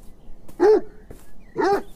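A dog in the video game Beyond Eyes gives two distinct, clear barks about a second apart, close and alone, against a quiet background.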